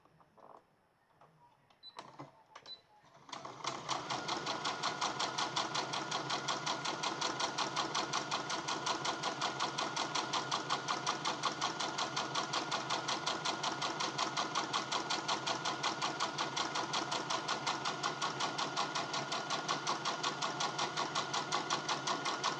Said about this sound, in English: now we're going to work on the other side, and you just want to stitch that side down